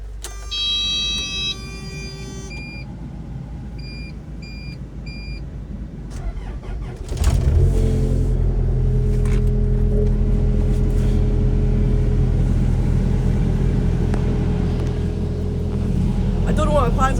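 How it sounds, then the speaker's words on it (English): A frozen work machine's engine cranks and catches after a few seconds of quiet, then settles into a loud, steady low idle as it warms up on a cold morning. "The machine's all frozen, so first things first is to start it and heat up a bit."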